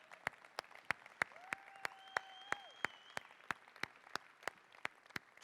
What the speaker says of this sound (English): I want to give everybody here a huge round of applause because you guys are amazing.